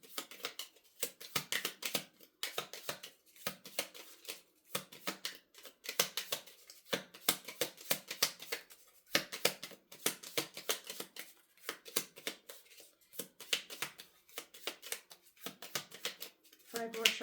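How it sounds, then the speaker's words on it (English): A tarot deck is shuffled repeatedly for a card reading, making quick, crisp riffling and slapping bursts in an irregular rhythm that run steadily for over fifteen seconds, close and moderately quiet. "5 more shuffles."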